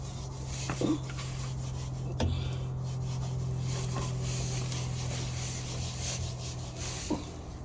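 A compound is rubbed onto a metal bar, making a steady close scraping and rasping with a low background hum and a few brief knocks.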